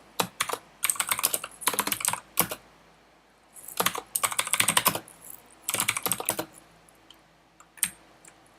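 Computer keyboard typing in bursts of rapid key clicks separated by short quiet gaps, close and fairly crisp, with no talk.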